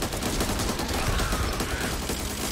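Dense, continuous gunfire from a zombie shooter game, Back 4 Blood, with rapid overlapping shots and automatic bursts filling the whole stretch at steady loudness, no talking.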